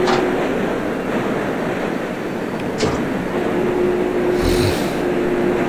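A New York City subway train on the BMT L line rolls along in the OpenBVE simulator, a steady rushing rumble with a faint tonal hum, a sharp click near the middle and a brief hiss toward the end.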